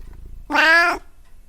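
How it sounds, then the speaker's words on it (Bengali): A single clear cat meow, close and fairly loud, lasting about half a second, with quiet background before and after. "বিড়ালটি মিউ মিউ করে বলল"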